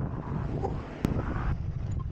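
Steady wind gusts outdoors on a warm day near Sierra Madre in the mountains, a continuous low broadband rush with one sharp brief knock midway, no voices.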